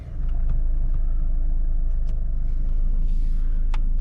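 A 150 hp 1.9 JTDm common-rail diesel in an Alfa Romeo 159 with manual gearbox cranks and settles into a loud, steady low rumbling idle heard from inside the car.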